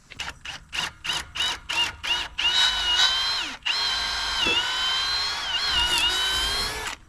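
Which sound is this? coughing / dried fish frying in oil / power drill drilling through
power drill drilling through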